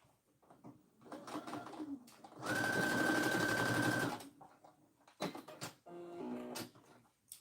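A sewing machine runs in one steady burst of about a second and a half, stitching down the corner of a fabric tissue holder, loud and close amid quieter handling sounds and faint bird coos.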